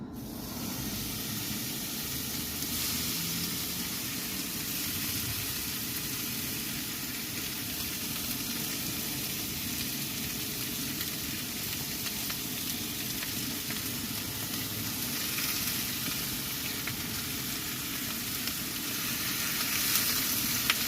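Meat sizzles in a skillet greased with sprayed grapeseed oil and seasoned with garlic and onion powder, a steady close crackling hiss with light stirring throughout and no talk.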